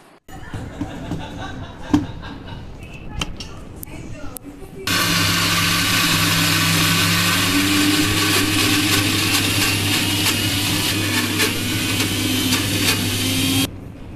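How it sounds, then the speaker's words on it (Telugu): A kitchen mixer grinder churns cream with cool water into butter, starting after a few seconds of clatter and then running as a loud, steady whirring drone close by before cutting off near the end. "ఇలా మిక్సీలో వేసుకొని కొంచెం కూల్ వాటర్ యాడ్ చేస్తూ ఇలా మొత్తం క్రీమీ టెక్స్చర్ వచ్చేలాగా అయితే నేనైతే మిక్సీ పట్టేసుకున్నాను"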